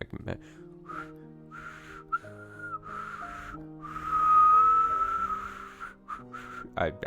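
Whistling heard in a scene from the visual novel game Higurashi When They Cry, several short tonal whistles with one longer sustained note in the middle, set over soft background music.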